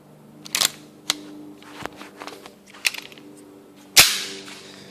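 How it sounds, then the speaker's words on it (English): Shots from a custom red and black Tokyo Marui Hi-Capa airsoft pistol, fired one-handed at a target: a string of sharp, snappy cracks at uneven intervals, the last one loudest, with no talking. "So I'm going to go shoot these."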